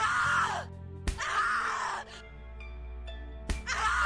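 Shrill, agonized screams and groans from a character in the horror video game The Cat Lady, several loud cries broken by sharp thumps and brief pauses, close and intense.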